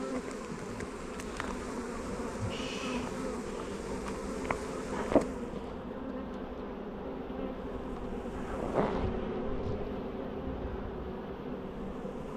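Bees buzz around a hive in a steady, dense hum close by, with occasional louder passes as individual insects fly near, no talk.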